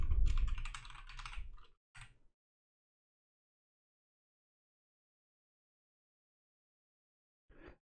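Keys clatter on a computer keyboard as a new password is typed, a quick burst of close taps followed by a couple of isolated clicks, then silence and one last brief tap near the end.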